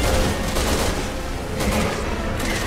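Rapid gunfire bursts in the video game Resident Evil 6, dense and continuous shots filling the whole stretch with no talk.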